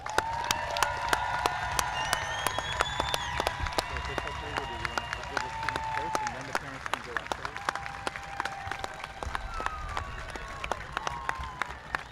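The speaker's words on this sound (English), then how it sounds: "let's give them one more round of applause" An audience claps for graduates at a 2021 high school graduation ceremony, a long steady round of applause heard from across a large space with scattered cheers and voices over it.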